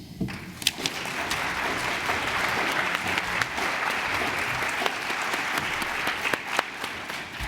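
An audience at a public health lecture applauds to congratulate an award recipient and welcome her to the stage, sustained clapping from a sizable crowd with a few sharper claps, loud and close, with faint talk underneath.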